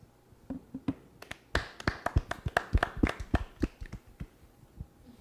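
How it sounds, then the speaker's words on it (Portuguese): A short burst of clapping on a Formula 1 talk podcast: a few scattered claps build into a quick, uneven round of applause from a small group at close range, then thin out again. "Uma salva de palmas"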